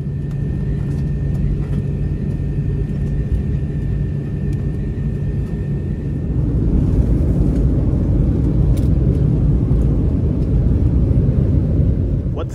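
Steady low roar inside an airliner cabin before takeoff, a continuous rumbling drone that swells louder partway through as the engines spool up.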